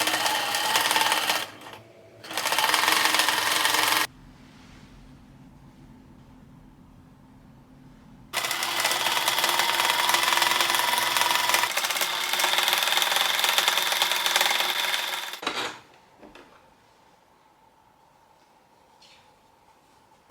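A sewing machine stitches light blue fabric pieces, placed right sides together, into patchwork with a 5 mm seam allowance. It runs in loud, close bursts: two short runs, then a long steady run, separated by quiet pauses.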